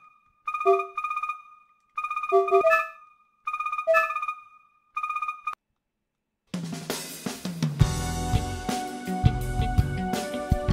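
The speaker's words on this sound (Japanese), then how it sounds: "勤め先から電話かかってきた" Phone ringing in the Jinguji Saburo detective video game, four short repeated electronic ring bursts with pauses, followed by a louder stretch of game music.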